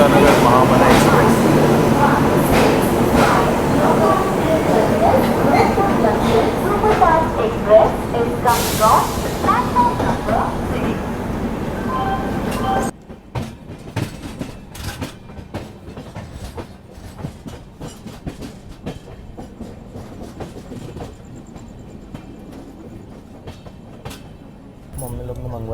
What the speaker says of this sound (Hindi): यहाँ से हमारी ट्रेन जा रही है और सामने से एंटर हो रही है वाराणसी एकता नगर महामना एक्सप्रेस